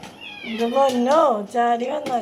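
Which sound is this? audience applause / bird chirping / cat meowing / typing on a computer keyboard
cat meowing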